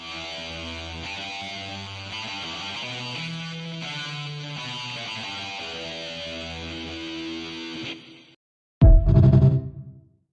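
A lightsaber sample processed through an amp into a sustained, distorted electric guitar-like tone with heavy reverb plays for about eight seconds, then stops; a brief loud low burst follows.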